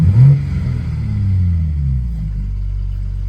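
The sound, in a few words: BMW M4 exhaust burbles in sport mode with valve controller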